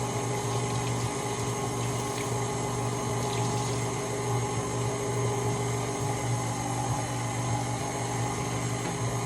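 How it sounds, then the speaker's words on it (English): Hands washed under a running tap while making sweet potato pie: a steady, unbroken rush of flowing water, moderately loud and alone for about nine seconds. "Wash my hands."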